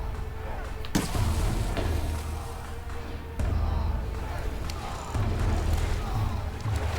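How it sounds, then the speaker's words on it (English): Barrels are shot and blow up in a video game: a sharp crack near the start, then heavy booming blasts rumbling in repeated waves under a noisy, chaotic scene. "Yes, shoot the damn barrels!"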